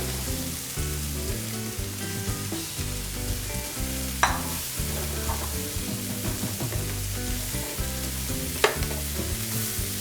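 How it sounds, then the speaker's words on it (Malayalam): Fried chicken pieces sizzle as they are stirred into a greenish chilli chicken base in a pan. A steady crackle runs throughout with a couple of sharper utensil clatters, under background music. "ചിക്കൻ പീസസ് ഇടും."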